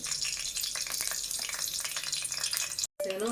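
Mustard seeds crackle and sizzle in hot oil in a pot for an Andhra-style country chicken curry, a dense continuous frying hiss with popping, cut briefly near the end.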